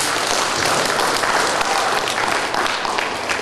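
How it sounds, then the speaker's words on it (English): Steady, dense applause from a large audience welcoming a keynote speaker at a community information presentation, loud and continuous throughout with no voices over it. "So give a big round of applause."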